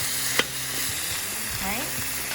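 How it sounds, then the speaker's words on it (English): Beef pieces browning in a pot for Guyanese pepperpot sizzle steadily up close, with a few scrapes and clinks of a utensil stirring against the pot. "So, I'm going to let these pieces brown off."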